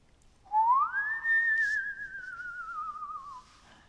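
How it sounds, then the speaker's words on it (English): A weird, warbling whistle drifting up from a hole in the ground: one sustained tone that rises quickly, holds and then wavers downward for about three seconds before stopping, close and clear, with no voices. "Weird, warbling whistles drifted out of another hole in the ground."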